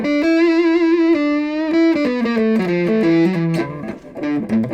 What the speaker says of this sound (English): with the tone down to about 2 on my neck position pickup with full distortion